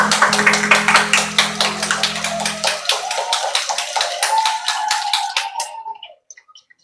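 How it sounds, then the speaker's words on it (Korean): Rhythmic clapping at a children's church worship service, close and steady at a regular beat for about six seconds before stopping, with a held sung note underneath. "하나님께 영광의 박수 올려주세요."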